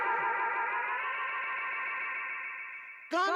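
Reggae music played through a Monacor bucket brigade analog delay unit, a sustained smeared and echoing tone that swirls for about three seconds before a sharp new sound cuts in at the end.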